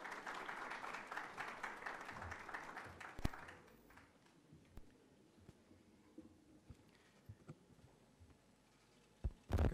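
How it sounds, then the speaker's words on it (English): Applause from the audience at the IDA summit in Senegal, a steady dense clapping for a few seconds that cuts away to a quiet hall with scattered knocks and shuffles. "Sous vos applaudissements, s'il vous plaît"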